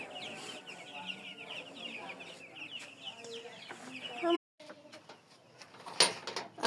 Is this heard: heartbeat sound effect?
no